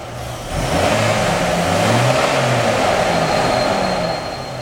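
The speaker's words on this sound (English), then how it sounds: "Revs up." A Chevrolet Trailblazer with a freshly installed 4.2 engine revs up loudly and steadily, the engine note rising after a brief idle and holding strong nearly throughout before easing slightly at the end.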